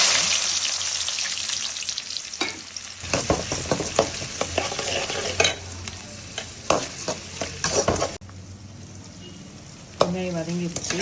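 Three large onions, finely chopped, sizzle and fry in a pan of hot oil with popped mustard seeds for a Tamil chicken gravy, broken by repeated loud scraping stir strokes of a spoon, steady close frying underneath.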